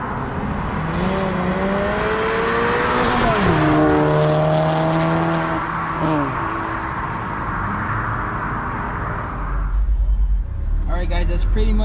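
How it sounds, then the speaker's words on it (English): A Stage 2 Volkswagen MK7 GTI making over 300 hp with an aftermarket exhaust revs hard, rising and shifting through gears in a loud flyby, then its engine note drops away, leaving a low rumble at the end. "Alright, now we do a flyby video."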